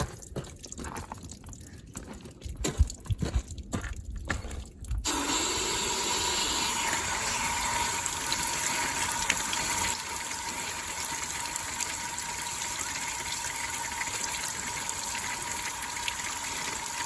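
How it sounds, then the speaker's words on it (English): Water from a garden hose rushes steadily into and out of a Massey Ferguson 205-4 tractor radiator being flushed of dirty coolant, a loud, continuous gushing hiss after a few seconds of splashing. "I'm just going to get my hose here and just start flushing this."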